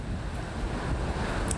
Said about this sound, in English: We're getting another little gust kicking up here